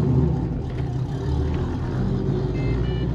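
A Pontiac GTO pulls away: a steady, deep engine rumble heard close up, holding fairly even in loudness for a few seconds with no voices.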